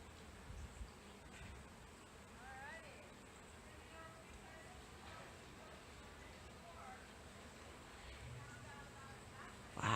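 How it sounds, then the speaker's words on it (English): A honey bee swarm outdoors in Petaluma, California, giving a faint, steady, diffuse buzzing that runs throughout, with soft speech-like sounds in the background. "bee swarm."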